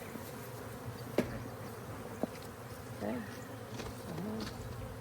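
Steady low buzzing of many honeybees around a hive during a hive split, with a couple of sharp knocks and a brief spoken word over the hum.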